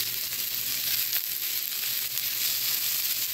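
Vegetables and grated chicken sizzling steadily in a frying pan, a constant close hiss and crackle with no talking.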